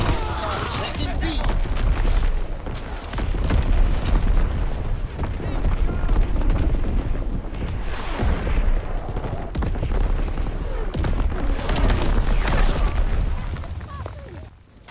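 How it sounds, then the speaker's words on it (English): Enemy artillery shells explode in Call of Duty: WWII, heavy booming blasts rolling one after another amid scattered gunfire, with game voices calling out over the continuous battle noise. "Incoming enemy artillery."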